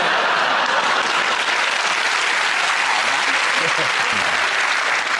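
Studio audience applause on a British comedy panel show, a dense, steady wash of clapping that stays loud and even throughout, with faint voices mixed into the noise.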